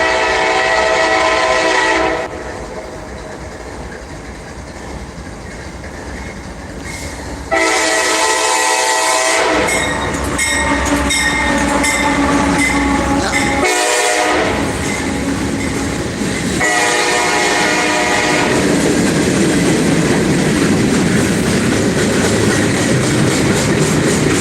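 A long freight train loaded with many boxcars rolls past trackside at the old Thurmond, West Virginia ghost town, loud and close, with a sustained rumble and clatter of cars and a horn sounding, without speech.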